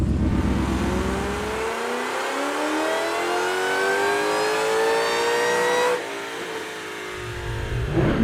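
A tuned Ford Mustang engine on a dyno revs hard through a long, rising pull that climbs steadily in pitch, then drops off and comes back up, loud and close.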